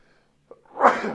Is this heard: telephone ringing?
no